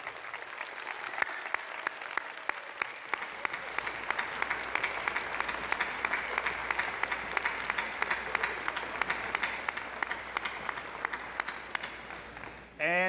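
Graduates at a university convocation give a long, steady round of applause for family and friends in the stands, dense clapping filling a large hall for over ten seconds, ending abruptly with a microphone sound.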